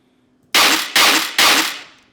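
Gunshot-like layered sound effect in a music track: three loud, sharp, heavy bursts in quick succession, each with a short noisy decay, alone and close.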